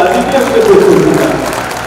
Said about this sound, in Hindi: तो यार जोरदार तालियों से उनको भी एहसास दिला दीजिए अपने खूबसूरती का